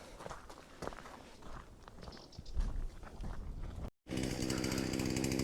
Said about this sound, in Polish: Dobra, piła odpalona.